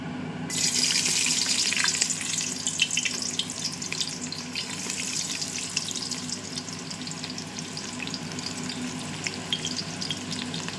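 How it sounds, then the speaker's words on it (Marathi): Onion sizzles in hot oil in a pan for mutton biryani, a steady, close, dense crackling hiss that starts abruptly and holds for about ten seconds with no voices. "तर त्यामध्ये कांदा फ्राय करून घेते सर्वात आधी."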